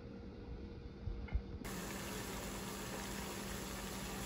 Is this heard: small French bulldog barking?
no